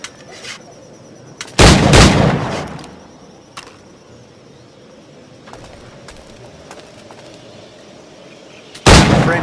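Gunfire from a firearm in Assassin's Creed IV: Black Flag, two loud booming shots several seconds apart over a low ambient bed with faint ticks and clatter between them.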